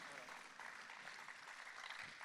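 Audience applause at an award ceremony, a dense, even patter of many hands clapping at once, heard fairly faint and continuous from start to finish.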